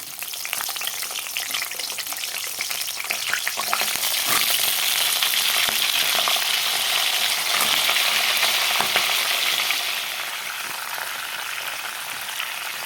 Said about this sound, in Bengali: এখন আলুগুলোকে দিয়ে ভেজে নেব